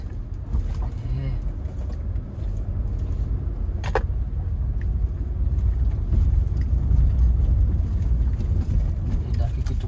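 A manual car pulls away slowly during a driving lesson at a T-junction on an uphill slope, its engine rumbling low and steady as gas is gently added, with the drone swelling slightly toward the end while voices occasionally speak over it.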